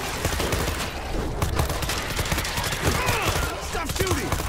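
Dense, continuous gunfire from a World War Z zombie-shooter game battle, a steady loud barrage of rapid shots layered with chaotic noise throughout.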